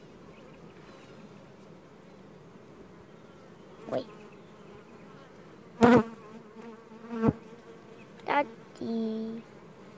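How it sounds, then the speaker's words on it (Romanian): A steady buzzing of bees fills the background, with a few short exclamations from a nearby voice breaking in. "O albină a trecut pe lângă mine și nu m-a înțepat."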